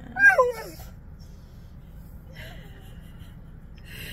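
A dog lets out a short, high whine at the start, followed by a fainter whimper a couple of seconds later amid quiet room sound.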